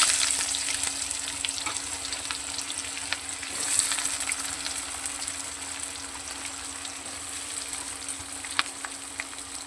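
Chopped onion frying in a pan for a meat dish, a dense, even sizzle with occasional faint clicks and stirring, close up and steady, with no one speaking.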